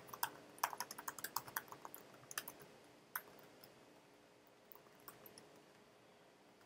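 Computer keyboard typing in quiet bursts of quick key clicks, faint and close, with irregular pauses and isolated single taps between runs, no voices.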